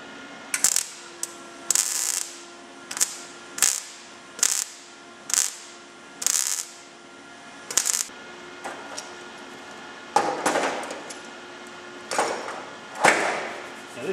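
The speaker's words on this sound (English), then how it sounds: "I'm going to take the clamps off and just tap it all back flat all the way around" A hammer taps tack-welded MIG steel pieces flat after the clamps come off, giving a series of sharp metallic knocks in irregular bursts, fairly close and clear, with no talking.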